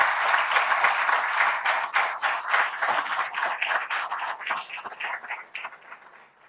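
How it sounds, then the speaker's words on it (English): A conference audience gives a round of applause at an ophthalmology inauguration ceremony, a steady crowd of clapping hands that stays strong, then loosens and fades near the end, with no talk. "please give a big shout out, big round of applause to everybody in BPA."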